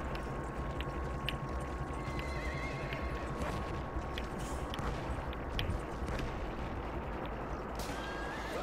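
A horse whinnies amid the battle din of the video game Battlefield 1, with hooves clopping and steady rumbling noise throughout, no talk.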